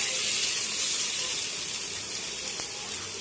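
Brinjal slices sizzle on a hot tawa, a steady, close, bright hiss that holds evenly throughout with no voices over it.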